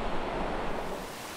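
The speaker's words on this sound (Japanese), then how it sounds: "めちゃくちゃ大雨" Heavy rain pours down steadily in a mountain valley in the Southern Alps near a stream confluence, a dense, loud, continuous hiss with no talking.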